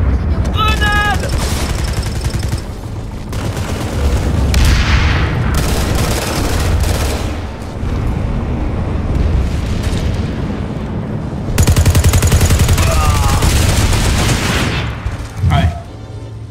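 A grenade explosion and heavy gunfire in the online shooter Planetside 2, with sustained bursts and booming blasts filling the battle, and a voice speaking over the fighting.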